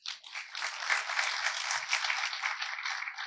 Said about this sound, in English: So please give him a heartfelt round of applause.